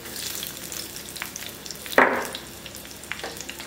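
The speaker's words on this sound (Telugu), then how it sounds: "చూసారు కదా నూనె మరిగింది, ఇప్పుడు పచ్చిమిరపకాయలు వేస్తున్నాను చూడండి" Green chillies drop into hot oil in a pan while cooking a sea fish curry, giving a sudden sharp burst of sizzle followed by a softer, fading crackle over low background noise.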